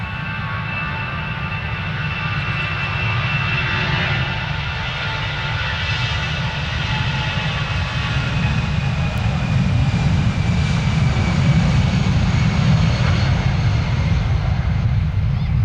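Loud, continuous roar of a passenger airliner's engines at full power during takeoff at London Stansted Airport, a deep rumble with a high whine, building slightly toward the end.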